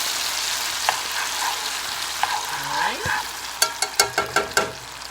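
Sofrito sizzles steadily in a hot pan on a home stove, a constant frying hiss that is joined near the end by a quick run of sharp clicks and knocks from stirring or utensils.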